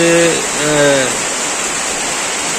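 Heavy rain pouring steadily, a loud dense hiss filling the whole stretch without a break, while someone speaks briefly over it at the start.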